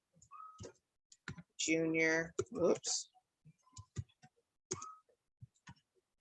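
Fingers type on a computer keyboard in scattered quick clicks and taps, close and fairly quiet, while a person speaks briefly in between.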